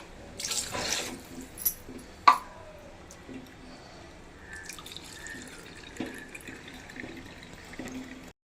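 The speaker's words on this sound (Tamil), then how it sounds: "இந்த மாதிரி நீங்கள் தண்ணி ஊற்றிடுங்க." Water poured from a vessel into soaked rice in a pot while cooking chicken biryani: a soft, close trickle with scattered drips and small splashes, fairly quiet, with no talking.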